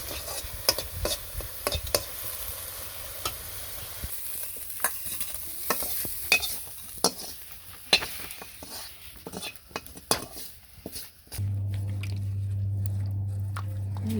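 Brinjal slices frying in hot oil in a village kitchen, a steady sizzle broken by sharp pops and the clicks of a utensil stirring, ending with a low, steady hum.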